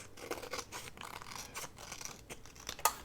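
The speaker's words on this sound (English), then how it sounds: "I hate cutting glue paper with my scissors" Scissors cutting through glue paper for handmade magnetic bookmarks, a run of soft, papery snips and scratchy rubs, fairly quiet and close with no talk.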